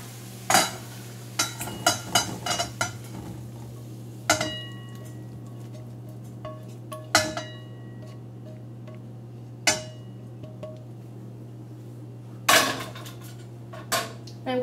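Baked salmon is scraped and spooned into a bowl, with a series of sharp metallic clinks and taps at irregular intervals over a steady low hum of kitchen background noise.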